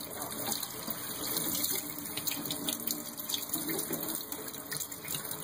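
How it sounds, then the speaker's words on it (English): Running water rinsing a cleaned rainbow trout, a steady close gush from a tap with faint splashing, while people talk quietly nearby. "Alright, and then just rinse the whole fish off"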